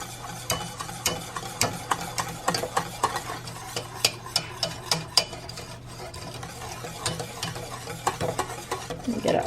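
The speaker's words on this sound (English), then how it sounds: "let's get this whisked in" Sugar-free peach Jello being whisked to dissolve it gives a brisk run of rhythmic tapping and clicking strokes against a bowl over a low steady hum, close and fairly loud, with no voices.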